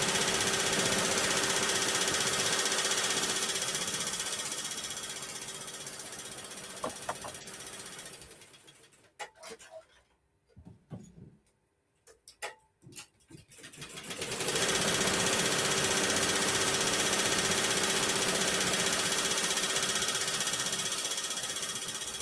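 An embroidery machine stitching a bunny shaker tag runs steadily and loudly with a dense mechanical whir, drops away to near silence midway with a few faint clicks, then starts up again at full level.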